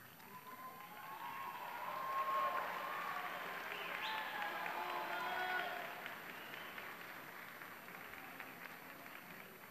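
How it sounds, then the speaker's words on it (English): Graduates at a university commencement applaud their families, a soft, distant wash of clapping and crowd noise in a large hall that swells, holds and eases off. "Graduates, will you please stand and thank your families with a round of applause?"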